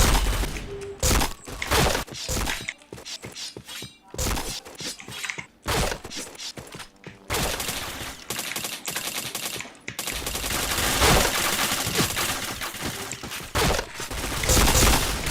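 Rapid bursts of automatic gunfire and sharp shot cracks from a first-person shooter game, dense and loud with brief pauses between volleys and a few thuds.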